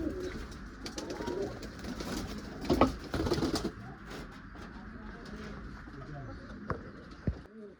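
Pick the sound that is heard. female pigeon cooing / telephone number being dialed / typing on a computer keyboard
female pigeon cooing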